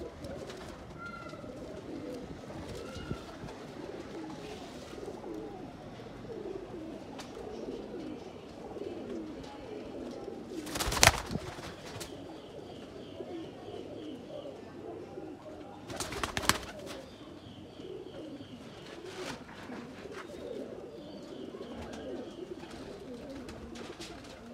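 Breeder pair of Kasuri pigeons in a loft give soft, low cooing throughout at moderate distance, with a couple of sharp louder knocks or flaps standing out midway.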